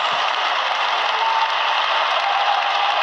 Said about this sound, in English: So this is how liberty dies. With thunderous applause.